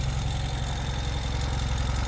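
A 2022 Ural Gear Up motorcycle idles steadily with its stainless steel exhaust, a continuous low, even engine rumble that holds loud and close throughout with no talking.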